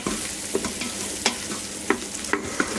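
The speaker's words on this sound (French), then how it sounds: "nous allons saisir sauter les champignons et les lardons" Mushrooms and lardons sauté in a multicooker for a coq au vin, a steady close sizzle broken by several sharp scrapes and clacks as a utensil stirs the mixture.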